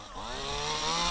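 Power saw cutting through storm debris from wrecked homes, a loud, close motor whine that rises in pitch and holds steady as the blade bites in.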